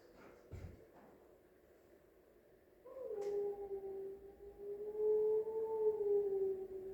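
A Sami wolf yoik, a chanted song imitating a wolf, rises into a long sustained wavering tone that swells and holds, preceded by a few soft knocks and quiet room noise.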